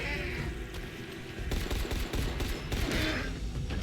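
Gunfire in the video game Dying Light: The Beast: loud, rapid bursts of shots crackling close up over a dense wash of game noise, with no voices.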